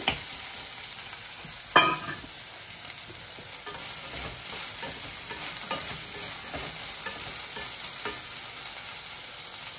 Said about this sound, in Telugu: బెండకాయలను ఇలా నూనెలో వేయించుకుంటే బాగా రుచికరమైన బెండకాయ పులిహోర రెడీ అవుతుంది